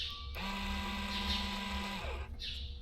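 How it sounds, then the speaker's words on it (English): A small electric valve motor on a dry fertilizer spreader, powered from a 12-volt battery, whirs briefly with a steady hum for about two seconds before stopping, quiet and close. "Valve turns that direction"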